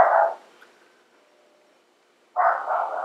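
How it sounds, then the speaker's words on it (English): A dog barks twice, once briefly and then in a quick doubled burst after a pause, muffled and somewhat distant as if from outdoors. "Boris is outside barking"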